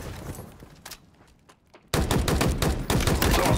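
Machine gun fire in Halo Infinite: a few scattered distant shots, a brief lull, then loud, sustained rapid bursts of automatic fire close by.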